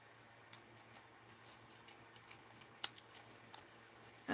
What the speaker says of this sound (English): I think I'm going to cut her out here.